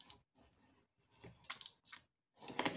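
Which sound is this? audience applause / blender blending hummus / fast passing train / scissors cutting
scissors cutting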